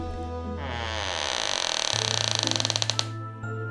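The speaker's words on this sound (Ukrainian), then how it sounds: "Внизу скрипнули двері." A door creaking slowly open in a house, a long drawn-out groan that breaks into a rapid run of ticking creaks before stopping, fairly close and with no talk over it.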